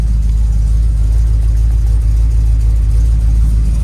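A 1936 Chevy coupe engine runs steadily at idle, a loud, close, low rumble with an even throbbing pulse and no speech over it.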